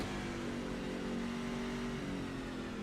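A race truck engine in the iRacing video game drones steadily as the truck slows leaving the track, a constant mid-pitched hum heard at a distance, fairly quiet and unbroken.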